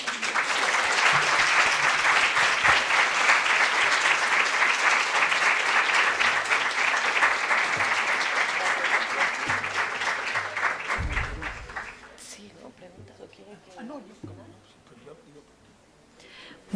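Audience applause at the close of a behavioral and economic sciences conference lecture, a steady sustained clapping from a full room lasting about twelve seconds before it stops abruptly, leaving quiet room noise.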